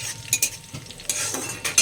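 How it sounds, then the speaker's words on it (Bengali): Fish frying in oil in a pan, with a steady sizzle broken by a few clinks and scrapes of a utensil against the pan, close and moderately loud with no speech. "এই সাইডে মাছ ভাজা বসিয়ে দিয়েছি অলরেডি মাছ ভাজা হচ্ছে"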